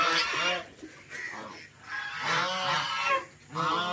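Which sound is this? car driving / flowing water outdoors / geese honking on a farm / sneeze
geese honking on a farm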